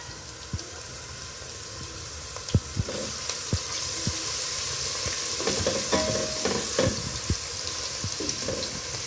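Chopped onion and crushed garlic fry in a pan with a steady close sizzle, punctuated by sharp clinks and scrapes of stirring.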